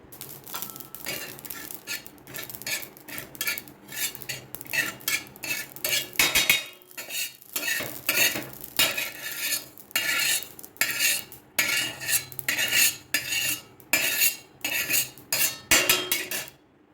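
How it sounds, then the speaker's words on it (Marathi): Poppy seeds are dry-roasted and stirred in a pan while mutton gravy is being made, with a spoon scraping and clinking in quick, repeated strokes, close and fairly quiet, with brief pauses. "एक चमचा खसखस घ्यायची आहे ती सुद्धा भाजून घ्यायची"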